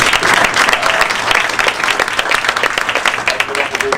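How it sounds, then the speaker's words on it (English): Loud, dense applause from a town hall meeting audience, continuous clapping close and full throughout, with faint voices mixed in. "Let's give her a round of applause."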